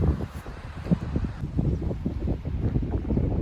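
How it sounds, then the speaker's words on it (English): Strong wind buffets the microphone outdoors by a trig point in Harwood Forest, a loud, uneven low rumble with repeated gusts and no talking. "Right, it's very, very windy."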